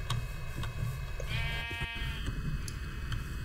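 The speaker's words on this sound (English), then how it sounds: "let's try and kill the sheep." Sheep bleating in a hardcore survival video game, several repeated bleats over steady game ambience with no talk.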